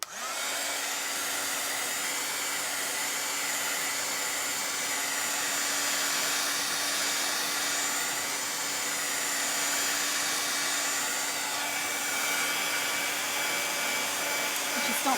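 A hair dryer blows steadily over freshly applied red paint, a loud continuous whooshing whir with a constant motor tone, unbroken from start to finish.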